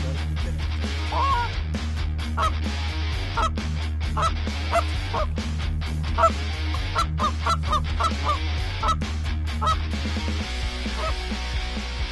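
A flock of Canada geese flying over Kansas, honking repeatedly in a steady stream of calls over a constant low rumble, fairly close and continuous.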